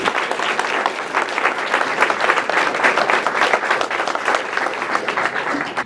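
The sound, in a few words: applause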